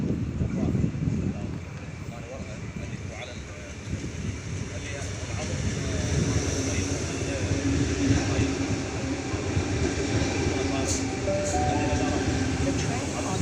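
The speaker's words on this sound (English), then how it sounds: "Bondi Junction service now arriving into platform 3" Sydney train set T125 pulls into platform 3 on a Bondi Junction service with a rumbling, rising roar that holds loud and steady, partly under a voice.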